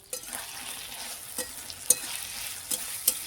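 Garlic and ginger paste sizzles with tomato in a hot pan, a steady soft hiss broken by about five sharp scraping stirs spread across a few seconds.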